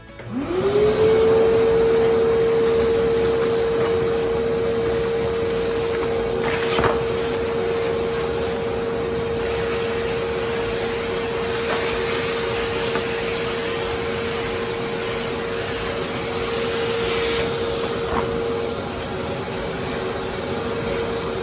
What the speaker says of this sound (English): We're going to set the camera up and vacuum it up.